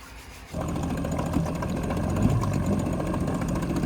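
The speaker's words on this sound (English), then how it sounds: "This beauty of an outboard is an 8-horsepower Yamaha." An 8-horsepower Yamaha outboard motor on a dinghy starts up abruptly and settles into a steady mid-pitched running drone, close and continuous.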